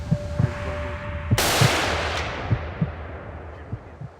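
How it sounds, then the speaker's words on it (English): A single loud rifle shot fired at a bull elk during a Michigan elk hunt, a sharp blast trailing into a long fading echo amid light outdoor knocking and rustle, no speech. "The first shot misses, but luckily the bull didn't spook, so they're able to take another shot."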